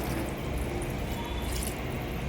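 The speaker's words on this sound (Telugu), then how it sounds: "ఇప్పుడు ఇందులోకి కొన్ని నీళ్ళు వేసుకుందాం." Water being poured into a pressure-cooker pot of food, a dense, continuous splashing rush heard close and steady throughout, with no voices.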